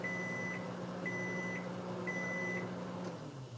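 A kitchen timer, set while cooking eggs Benedict, beeps in evenly spaced pairs of steady electronic tones, three rounds in a row, over a constant low appliance hum.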